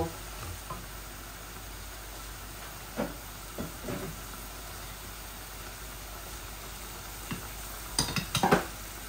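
Liver and lung being poured into a pan of spiced bhuna masala, a continuous low sizzle with scattered stirring scrapes and a louder clatter near the end.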